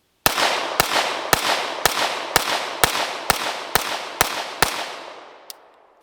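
A Staccato C 4-inch pistol fitted with a DPM recoil spring kit fires ten loud, sharp shots at an outdoor range. The shots come in a fast, even string about half a second apart, followed by one faint click.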